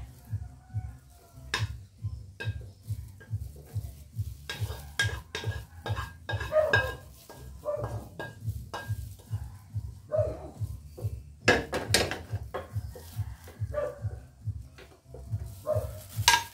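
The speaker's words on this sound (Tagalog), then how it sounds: "Tanggalan na natin sa apoy at transfer na natin sa ating pinggan." Metal utensils scrape and clink against a pan, with scattered knocks and taps as ampalaya with egg is moved out onto a plate, under a steady low rhythmic hum.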